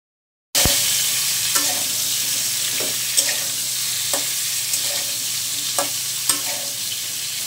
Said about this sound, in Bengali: আমার এই যে ফুলকপিগুলো কিন্তু ভাজা হয়ে গেল।